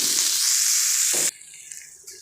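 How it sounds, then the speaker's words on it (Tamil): Tomatoes sautéing in a pan with salt, coriander powder and turmeric for a prawn gravy give a loud, dense sizzle for over a second, then drop to a softer crackle with light stirring. "கொஞ்சம் உப்பு, பின்ன தக்காளி போட்டு கொஞ்சம் வதக்கி விட்டுக்கிறேன்"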